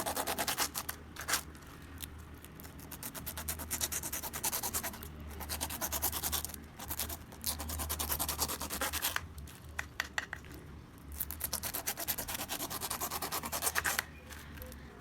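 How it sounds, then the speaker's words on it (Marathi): A knife cuts through a fresh pineapple, peel already trimmed, giving steady rubbing, scraping strokes with crisp slicing bursts, close and moderately loud, continuing throughout with no talking. "हे बघा असं कापायचं हे हे अननस कापून घेतलंय"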